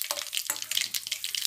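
Asafoetida powder frying in hot oil on a low flame, a soft crackling sizzle with quick bursts of bubbling, close and fairly quiet with no talk.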